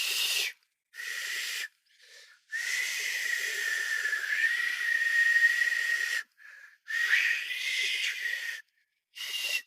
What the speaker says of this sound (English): I'm going to whistle for you.